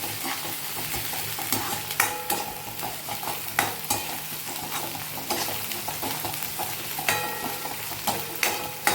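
Ginger and chili paste stirred and fried in a pan with onion for dal fry, a steady close sizzle broken by repeated spoon scrapes and knocks against the pan, with no voices.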